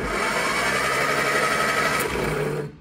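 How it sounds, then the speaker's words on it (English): An old barn-find Austin pickup engine cranks over on a jump pack in a fast, even mechanical churn, close and steady for under three seconds before cutting off abruptly. "So I'm going to grab a jump pack, connect power up to here, and we'll see if the engine turns over."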